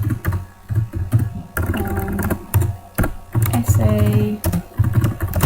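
Typing on a computer keyboard comes in quick clustered bursts of close keystrokes, with brief pauses between them and a voice speaking over parts of it.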